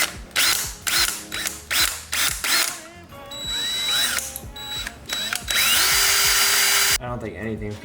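A power drill grinds into a stubborn bolt during a supermoto fender build, loud and close, with bursts of ratcheting, whining motor pitch shifts and a long sustained high drone near the end.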